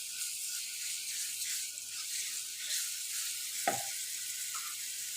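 Ginger garlic paste sizzles steadily in a pan over low heat, a continuous bright crackle with a brief stir scrape near the end.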